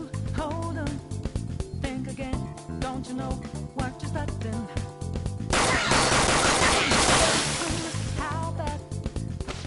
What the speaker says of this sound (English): Point it at a shadow and fire.